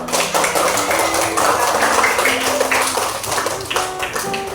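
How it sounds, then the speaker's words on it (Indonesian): A classroom group claps for a presenting student team during a teacher coaching session, a brief burst of mixed hand claps and taps over roomy background noise, with no speech. "tepuk tangan dulu buat kelompok 2"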